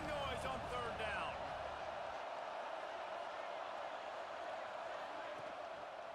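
Stadium crowd roar in EA Sports College Football 26 builds as noise on a third down, with a broad wash of cheering under a commentator's voice that fades after a couple of seconds.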